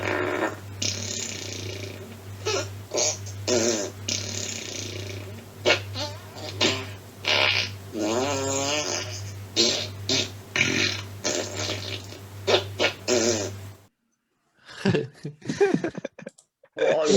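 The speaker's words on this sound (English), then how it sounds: "Alexa, fart 17 times in a row" An Alexa smart speaker plays a run of fart sounds one after another, with rumbling bursts filling most of the stretch, then a pause and brief talk.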